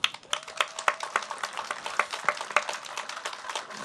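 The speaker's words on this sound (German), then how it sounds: "Ich glaube, da haben wir uns auch gegenseitig einen schönen Applaus verdient." Outdoor crowd at an Easter peace march rally claps in scattered, fairly sparse applause, individual hand claps audible at moderate distance with no talk over them.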